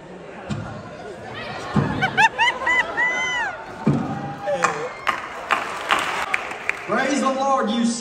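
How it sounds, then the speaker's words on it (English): A church camp meeting audience claps for an arriving preacher, scattered hand claps and crowd hubbub mixed with shouting voices and bursts of sound rather than a clean, steady ovation. "Clap your hands as Brother Adkins comes."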